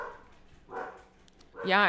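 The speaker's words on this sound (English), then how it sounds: "Sorry, listeners, about the dogs." Dogs barking and yipping in a room, a couple of short barks and a whiny yelp, heard close and mixed with people talking.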